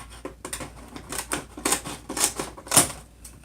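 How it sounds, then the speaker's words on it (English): Cardboard packaging of a Nerf Fortnite AR-L blaster being cut away, a run of irregular crisp snipping and scraping bursts at close range, no talking. "Let's go ahead and cut away some of this."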